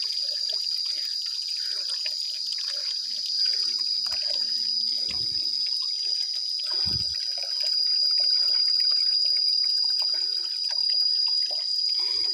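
Water pushed up by a hydram pump trickles from the outlet hose in a steady, faint stream, with a constant high hiss over it and a few soft knocks in the background.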